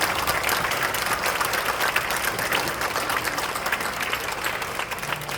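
Congregation at a church ordination service breaking into sustained, dense applause, loud and continuous for several seconds with no voices over it.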